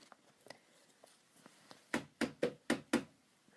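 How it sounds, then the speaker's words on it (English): Five firm knocks on a gate come in a quick, even run, loud and close, following a few faint taps. "She knocks."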